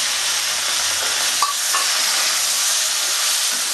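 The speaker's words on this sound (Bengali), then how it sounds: "এবার আমি টমেটো জলটা এবার দিয়ে দেবো" Tomato water hits okra and onion frying in a pan for a Bengali-style bhindi pyaz, bringing a loud, continuous close-up sizzle with a faint stirring clink, and no voices.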